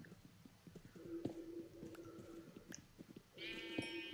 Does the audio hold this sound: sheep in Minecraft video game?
yes